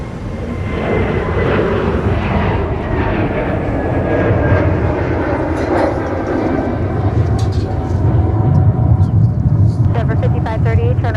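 A Frontier Airlines airliner at Minneapolis–Saint Paul airport gives off a loud, steady jet roar and rumble that swells slightly toward the end, with voices talking over it.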